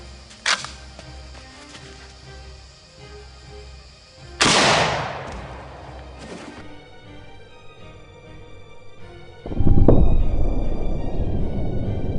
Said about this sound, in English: So let's put 1 round in and shoot the Ballistic Gel